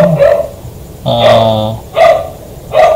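A dog barks late at night in short, sharp bursts, one near bark followed by two more spaced about a second apart, with a voice speaking in between.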